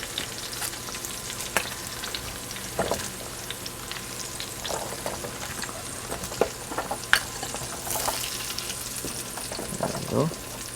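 Mirepoix and garlic go into a hot roasting pan of browned veal bones, giving a steady moderate sizzle with scattered scraping and clinking from stirring.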